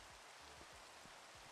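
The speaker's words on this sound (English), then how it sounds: "Oh, and it's raining." Steady rain falling in the video game Minecraft, a continuous soft hiss of drops with no talking, heard during a multiplayer session on a self-hosted server.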